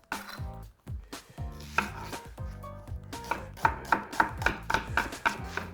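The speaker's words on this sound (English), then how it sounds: "if you cut the onion this way, those little veins right there, that's what's going to make the onion bleed, lose its juices" A knife chops through onions on a cutting board for French onion soup, giving a close, steady series of crisp knife strikes that quicken into a rapid, even rhythm toward the end.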